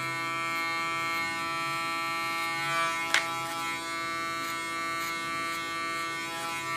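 Electric hair clipper buzzing steadily at close range as it is run through a woman's short, regrowing hair, with a brief sharper snip-like burst midway.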